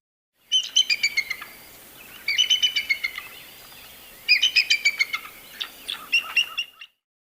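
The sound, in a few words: bald eagle call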